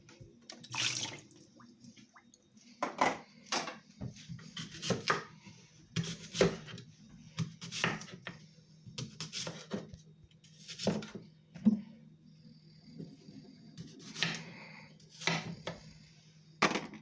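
An apple is rinsed under running water and then chopped into small pieces, with splashing and wet rubbing broken by sharp repeated cuts at an uneven rhythm, heard close up with no talking.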